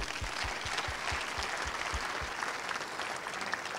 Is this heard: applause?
yes